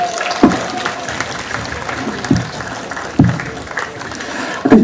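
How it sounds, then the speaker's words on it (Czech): Outdoor crowd applause at a volunteer fire brigade hose-rolling competition during a village anniversary celebration, a loose, moderate clapping texture punctuated by a few heavier thumps. "potlesk!"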